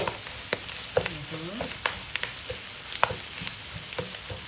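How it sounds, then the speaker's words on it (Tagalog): Garlic and onion sizzle and fry in a hot pan, with bursts of stirring and scraping over a steady hiss; the sound is close and fairly quiet. "ilagay na natin si bawang at saka sibuyas"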